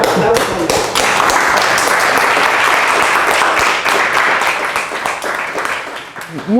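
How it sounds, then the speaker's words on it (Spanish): Sustained audience applause for an invited speaker at an academic lecture on gender and mathematics, a dense, steady wash of many hands clapping for several seconds that thins toward the end, with a voice starting to talk over it at the close. "Demos un aplauso."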